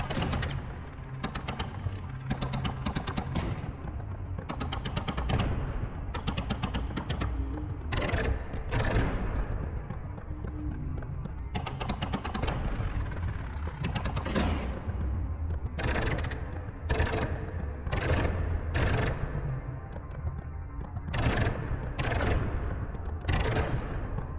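Repeated bursts of projectile gunfire from the video game Rude Machines, a loud run of rapid sharp shots that comes in clusters with brief gaps, dense and continuous across the whole stretch with no speech.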